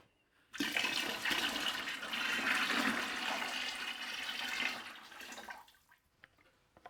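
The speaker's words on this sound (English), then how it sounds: "I dump the water into the slip reclaim bucket now" Water pours and splashes loudly into a pottery slip reclaim bucket for several seconds, then tapers off into a few faint drips.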